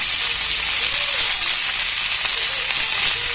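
Fresh methi (fenugreek) leaves frying in a pan over a low flame, making a loud, continuous, even sizzling hiss that holds steady throughout, with no talking.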